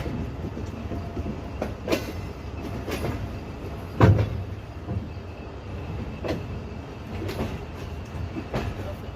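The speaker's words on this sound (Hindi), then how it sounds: "34 down park business express arrival कर रही है खानेवाल रेलवे स्टेशन पे" Pak Business Express passenger train arriving at Khanewal Junction railway station in Pakistan, a steady loud rumble with rhythmic clacking of wheels over rail joints and occasional sharp clunks as carriages roll past.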